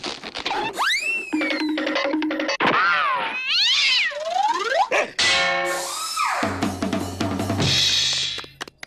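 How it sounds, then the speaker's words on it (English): Rubber balloon squeezed and rubbed to make cartoon sound effects: a rapid, loud run of squeaky sliding whistles, meow-like wails, springy boings and sharp squeals, close up with no talking. "a balloon was used for the majority of sounds you hear in cartoons?"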